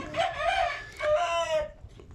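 A rooster crowing nearby on a farm among poultry and chicks, two loud drawn-out calls in quick succession, the second trailing off into a brief quieter sound.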